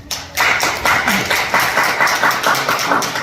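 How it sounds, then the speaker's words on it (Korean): Audience applause welcoming a guest lecturer, an ecological landscape scholar and old-tree expert, loud and close with fairly rhythmic clapping over about three seconds. "박수를 한번 많이 해주시죠"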